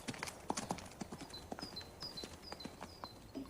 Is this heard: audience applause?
no